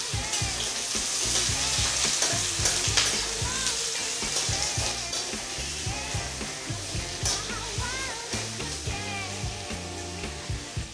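Two medium sliced onions sizzling in hot oil in a wok, a steady loud frying hiss with clinks and scrapes of stirring throughout.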